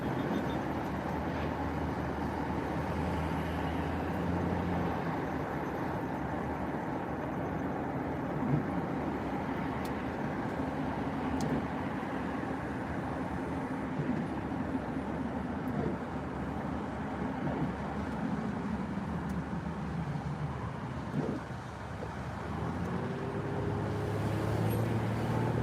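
Steady, continuous road traffic rumble heard from inside a moving vehicle, with a low droning hum and broad noise that holds evenly throughout, no talking.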